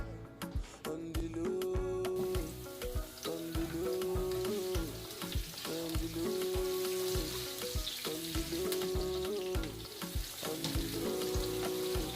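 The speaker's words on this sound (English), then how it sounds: "I throw in my onions and I leave them to fry for just a few minutes" Onions sizzle and crackle steadily in hot olive oil, with occasional scraping and clinks of stirring throughout.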